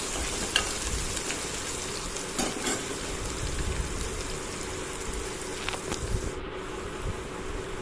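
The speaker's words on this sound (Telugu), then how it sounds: "ఈ క్యారెట్ని కూడా పచ్చివాసన పోయేంత వరకు మంచిగా ఆయిల్లో ఫ్రై చేసేసేయండి." Carrots fry in oil for upma, a dense, continuous sizzle like steady rain held at an even level, with a few faint stirring knocks, close by and without talking.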